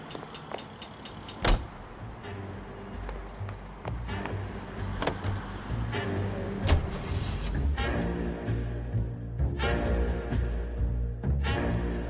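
A car driven in the video game L.A. Noire, a steady engine and road rumble running throughout after a brief burst of clicks and a thump at the start, with scattered knocks and rattles, no talk.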